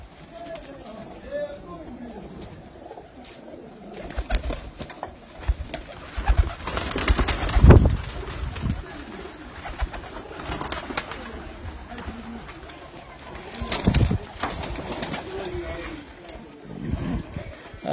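Breeder pigeons coo on a rooftop in Kharian, their soft calls rising and falling through the clip beneath nearly continuous talk from people nearby.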